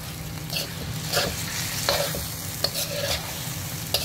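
Chicken curry is stirred in a pan over steady, moderate frying hiss, with periodic scraping strokes and light utensil taps against the pan.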